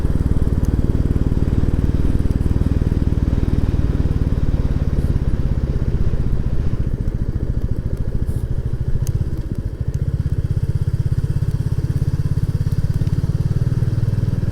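A Royal Enfield Classic 350 motorcycle climbing the steep 18% Rosedale Chimney hill, its single-cylinder engine thumping loudly and steadily nearby under strain, the note shifting lower partway through.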